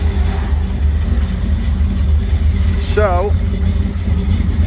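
Engine of a 1955 Ford F-100 hot rod running close by, a loud steady low rumble throughout, with someone speaking briefly and a short chirping whine partway through.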